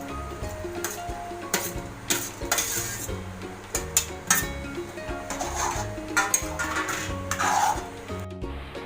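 A spoon stirs fried potatoes into a pan of palak paneer, giving close metallic scrapes and clinks in an uneven, busy rhythm against steady sizzling.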